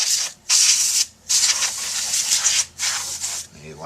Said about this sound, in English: I'm going to give it one last spritz of air.